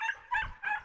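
A hunting dog yelps three times in quick succession, each cry sharp and high-pitched, close by and clear.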